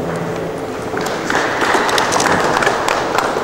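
Wedding guests break into applause, a dense patter of clapping hands that grows louder partway through and carries on steadily to the end.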